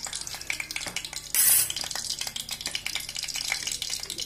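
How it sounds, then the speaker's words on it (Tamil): Oil heating and starting to sizzle in a pan for prawn Chettinad gravy, a steady crackling hiss with a louder sputtering burst partway through, close and unbroken, no talk. "எண்ணெய் சூடாகட்டும், எண்ணெயும் சூடாயிடுதுங்க."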